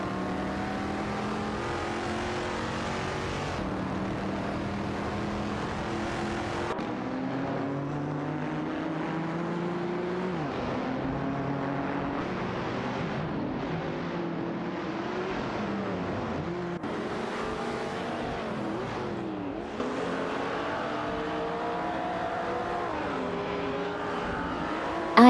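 Race car engines roar in an auto race, several cars revving and shifting in overlapping rising and falling whines, moderately distant and continuous.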